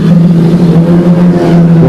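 Race cars speed around the track in a loud, close engine drone, a strong steady tone with a slight rise in pitch and no break across its length.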